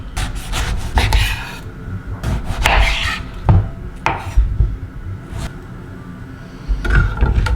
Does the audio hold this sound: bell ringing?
no